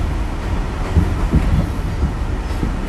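A New York subway train in the Bronx rumbles along the track underground, a steady low roar with faint rhythmic wheel clatter.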